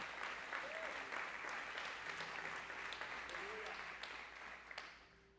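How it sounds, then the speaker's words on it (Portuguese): A church congregation applauds during an evening service, a steady moderate wash of clapping from a roomful of people with a brief voice in the middle, tapering off at the end. "Pode aplaudir o nome dele essa noite."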